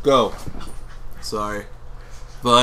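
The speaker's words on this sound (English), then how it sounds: "That's my dog." Pet dog in a room during a DayZ play session, whimpering and panting in short bursts between spoken words from a nearby person.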